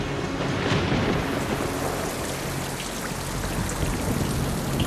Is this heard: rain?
yes